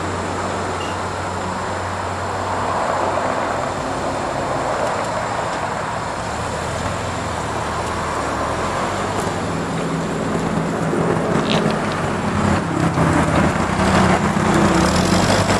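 A Hyster 5,000-pound cushion tire forklift drives around, its engine a steady low hum and rumble that swells louder toward the end, with faint mechanical clicks and rattles.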